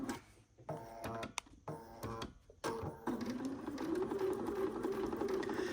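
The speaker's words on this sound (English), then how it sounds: "I'm going to go ahead and make sure I backstitch" A sewing machine stitches fabric in short stop-start runs at first and then settles into a steady, fairly quiet whirring hum.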